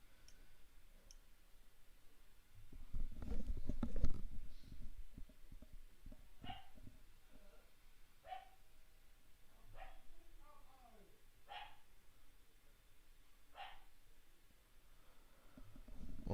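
A pet dog in a home barks in a few short, sharp bursts early on. Faint clicks and scattered thumps follow, and someone talks off and on.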